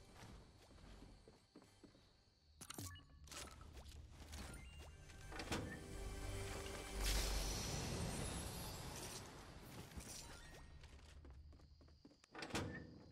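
Door opening in the Fortnite video game, a game-world thunk and slide amid steady in-game ambience, with a louder burst near the middle and sharp clicks toward the end.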